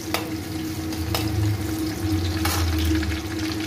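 Garlic fries in a pan for pasta, a close, steady sizzle with a few sharp clicks of stirring against the pan and no voices.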